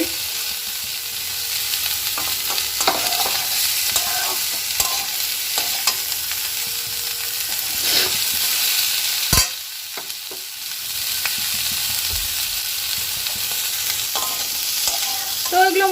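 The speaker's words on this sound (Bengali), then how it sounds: "মোটামুটি ভাজা হয়ে গেছে এখন আমি এইগুলো এক এক করে তুলে নিব ডালের মধ্যে" Ingredients for dal fry in a pan with a continuous sizzle, broken by repeated scraping stirs of a spoon and one sharp knock against the pan, with no talking.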